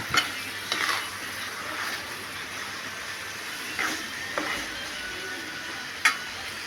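Bengali-style mutton curry being sautéed (kosha) in a pan, with a soft steady sizzle under quiet stirring scrapes and a few sharper spoon knocks against the pan, close and fairly faint.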